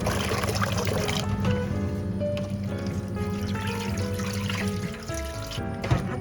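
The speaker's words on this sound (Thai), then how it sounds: "ล้างปลาหมึกด้วยน้ำเปล่าก่อนนะคะ" Squid being rinsed in plain water at a kitchen sink, a steady close wash of running, splashing water that continues throughout, with faint clinks near the end.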